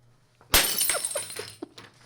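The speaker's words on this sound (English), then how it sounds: "there's our little glass break" A glass-breaking sound effect: one sharp, loud shatter followed by a second or so of tinkling shards settling, alone with no talk.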